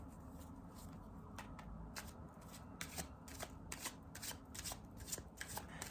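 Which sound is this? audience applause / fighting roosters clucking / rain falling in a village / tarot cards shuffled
tarot cards shuffled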